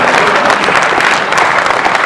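A dense, loud burst of audience clapping fills a Hindi poetry gathering (kavi sammelan) right after a ghazal recitation, steady and crowded throughout with no break.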